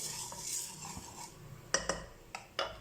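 Lentils for ven pongal dry-roasting in a pan, with soft scraping stirs and a faint crackle, then several sharp metallic taps of a spoon against the pan toward the end.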